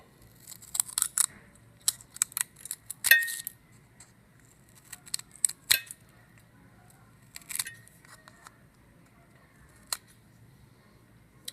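Popsicle sticks being cut and rounded off, a series of short, sharp snips and clicks at irregular intervals, close and distinct against near silence.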